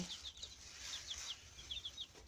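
Soft, scattered chirps and peeps from a group of young native chickens, repeating in quick little bursts over a low background hum.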